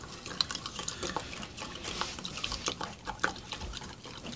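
Water poured into a raspberry-flavoured drink mix and stirred, giving faint, soft splashing and swirling liquid sounds with small clinks, close and quiet.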